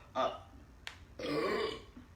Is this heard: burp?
yes